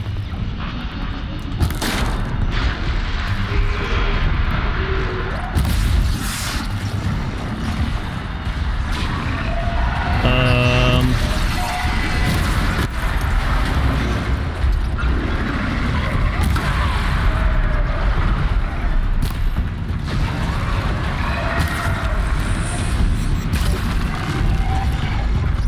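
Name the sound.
Bellowback machine creature approaching and attacking, from video game Horizon Zero Dawn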